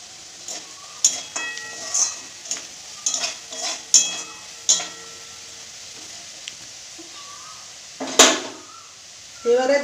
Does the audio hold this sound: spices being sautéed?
yes